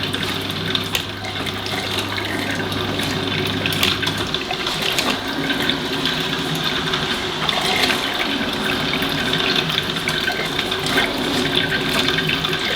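A Good Morn drip coffee machine brewing, a steady hiss and watery gurgle running continuously and fairly close for the whole stretch, with no talking.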